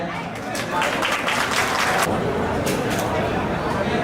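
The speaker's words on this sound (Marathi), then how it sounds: "जोरदार टाळ्या." Audience at a school reunion get-together clapping loudly, a steady wash of applause mixed with crowd chatter and talking voices throughout.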